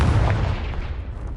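A Confringo fire spell blast in Hogwarts Legacy, one loud booming impact right at the start that rumbles and fades over about a second.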